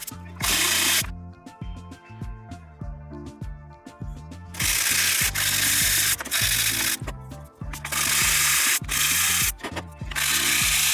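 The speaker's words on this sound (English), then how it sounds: "resand all of the seams, including the ones that have a really nice smooth surface from the bed of the 3D printer" Hand sanding of 3D-printed plastic parts for an extended-wheelbase Axial SCX24 micro-scale RC build: close, steady back-and-forth rasping strokes, with bursts of brighter, harsher scrubbing that alternate with softer passes.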